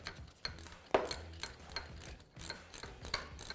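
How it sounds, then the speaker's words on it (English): A wrench ratchets as a bolt is tightened on a dirt bike while a GPR V4 fat bar stabilizer is fitted, giving short clicking and rubbing bursts, close but quiet, with no speech. "So now I can go ahead and tighten this bolt down."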